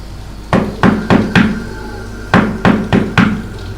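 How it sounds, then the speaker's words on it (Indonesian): A front door is knocked on at night: two close, loud bursts of four sharp raps each, separated by a short pause, with no voices. "tiba-tiba ada suara ketukan pintu depan"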